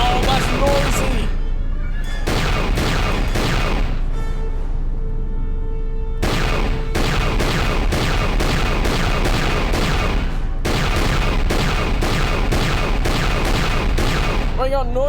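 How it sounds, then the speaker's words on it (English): Rapid, loud bursts of laser cannon turret fire in the video game Knights of the Old Republic II repeat almost continuously, punctuated by brief pauses, with a busy battle din layered underneath. "We got noisy ass laser cannons on."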